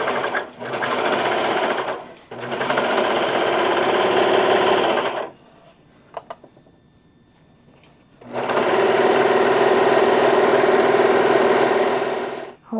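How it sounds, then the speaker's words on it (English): A serger sewing machine runs in two long, loud, steady buzzing bursts while serging the edges of ribbon skirt pieces, close by, separated by a quiet pause with small handling clicks. "just serging the edges"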